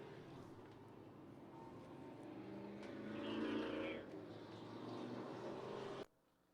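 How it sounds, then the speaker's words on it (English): Race cars rumble past on the backstretch of a short oval track, a broad engine roar swelling to a peak midway and holding before cutting off abruptly, with faint voices underneath. "We'll cross the cars on the backstretch."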